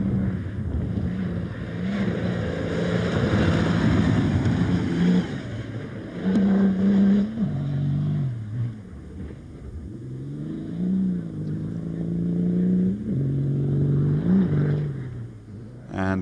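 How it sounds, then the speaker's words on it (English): A BMW X3 rally car races at over 100 mph along long straight tracks. Its loud engine drones steadily with gear-change dips and rising revs, buffeted by wind noise, and a commentator speaks over it. "making progress at over 100 miles an hour on these long straight tracks, Nasser Al-Attiyah was seen to be entirely at ease with the new BMW X3"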